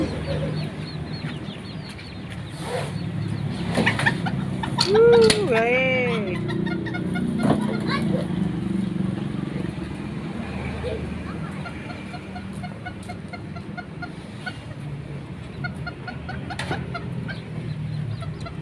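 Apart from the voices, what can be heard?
chickens clucking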